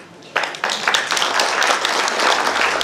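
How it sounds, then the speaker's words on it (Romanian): An audience applauds an elderly couple married 65 years at an anniversary celebration for older couples in Moinești, the clapping starting abruptly and swelling into steady, dense applause close by. "deja dumneavoastră i-ați aplaudat"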